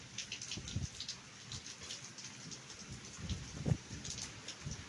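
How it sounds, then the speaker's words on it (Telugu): Steady rain falls in a broad wash of hiss, with a few louder drops and splashes standing out near the middle and end; no voices are heard. "ఇట్ట పడుతుంది వర్షం"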